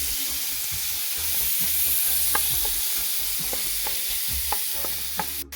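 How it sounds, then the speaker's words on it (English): Ham browning in oil in a pot, giving a steady close sizzle with occasional light pops and ticks, quiet and with no voices. "I just want them to brown on each side"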